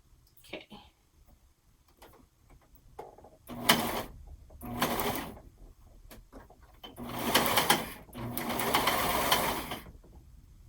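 An overlock sewing machine, its knife turned off, stitches elastic into a seam allowance in several short bursts, then a longer run, with brief talk in between.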